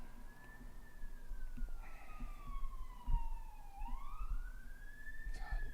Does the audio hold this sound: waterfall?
no